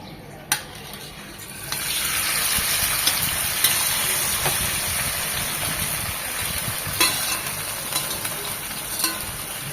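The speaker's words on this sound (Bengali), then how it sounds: "মাছগুলো হালকা করে ভেজেই নেই, দিয়ে দিচ্ছি সয়াবিন তেল" Small fish hit hot soybean oil in a pan, raising a sudden, continuous frying sizzle that carries on steadily, punctuated by a few sharp clinks and stirring knocks of a utensil against the pan.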